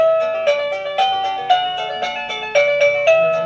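An electronic doorbell plays the melody of Für Elise, note after note in a steady rhythm, bright, clear and close.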